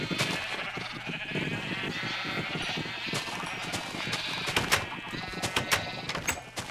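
Sheep in a video game bleat repeatedly, with several sharp, overlapping bleats from close by and a steady background bed beneath them.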